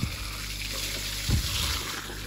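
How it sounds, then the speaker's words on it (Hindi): An elephant drinks water at Jim Corbett National Park, a steady wet sloshing and trickling rush running close and continuous, with one brief heavier gulp-like surge partway through. "और जब ये पानी पीती हैं अपने गले में पानी ले जाती है, एक अलग ही आवाज़ आती है"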